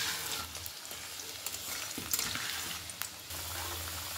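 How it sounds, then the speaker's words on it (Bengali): Potato pieces fry in hot oil in a wok for mutton curry, giving a close, continuous hiss and crackle with a few sharp spatters and stirring scrapes. "আলুগুলো এখন ভেজে নেব।"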